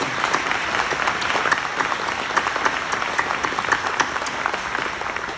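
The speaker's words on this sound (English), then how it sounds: "Why don't we applaud the members of the table for the veterans?" An audience gives a sustained round of applause for veterans seated at a table during a gathering about Vietnam veterans: dense, steady clapping from many hands with no voices, holding at an even level through the clip.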